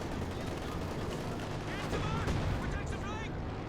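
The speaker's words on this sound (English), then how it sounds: "right now we have the IS-2 opening fire against the Cannon Morphers along with Katusha" An IS-2 heavy tank and Katyusha rocket launchers fire in Company of Heroes 2, a dense, steady roar of gunfire and artillery blasts under a commentator's voice throughout.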